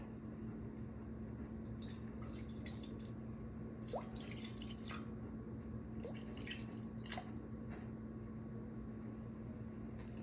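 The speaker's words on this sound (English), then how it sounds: "we pour in 300 grams of filtered water" Filtered water, 300 grams, trickles into a sourdough mix on a scale, a faint, steady stream broken by scattered drips and small splashes over a low background hum, with no talk.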